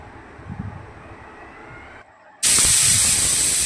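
Quiet kitchen background while tomato rice cooks, then a sudden loud, continuous high hiss of steam bursting out, like a pressure cooker whistle venting.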